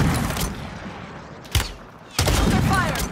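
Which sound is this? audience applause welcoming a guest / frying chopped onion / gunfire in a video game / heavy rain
gunfire in a video game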